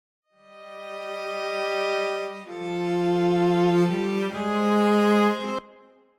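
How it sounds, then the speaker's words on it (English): Sampled Synastrings solo strings play dry with no room reverb, sustaining a held chord that shifts through a few changes over about five seconds before stopping cleanly. "these are Synastrings solo strings"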